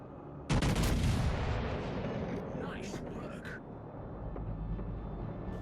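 The USS Iowa battleship in World of Warships Legends lets off a sudden loud salvo of heavy gunfire that rumbles and fades over several seconds, with someone talking over it.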